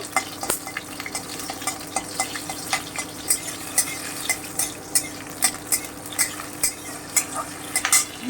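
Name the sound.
lightly frying split green chillies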